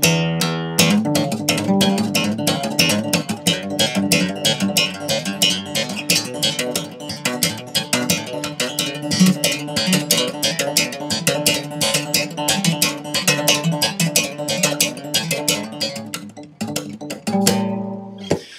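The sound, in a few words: acoustic guitar slapping, plucking and hammer-ons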